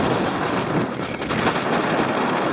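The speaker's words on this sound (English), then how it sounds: "that's a really strong wind" Strong wind on Mam Tor hilltop buffets the microphone in a loud, continuous roar with gusty rumbling, no other sounds standing out.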